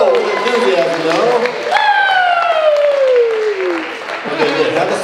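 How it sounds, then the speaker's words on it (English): A crowd at a motivational training event claps and cheers loudly, with a long falling "woo" whoop riding over the applause before it continues. "Here's another round of applause."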